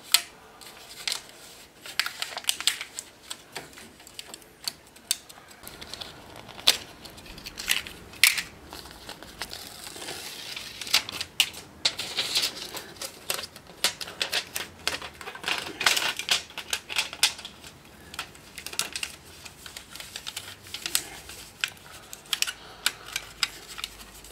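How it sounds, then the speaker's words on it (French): Adhesive tape is wrapped around the insulation on an outdoor supply pipe. Close crackling, rustling and tearing sounds keep going in uneven bursts for about twenty seconds. "Notre adhésif est posé sur la totalité du tuyau."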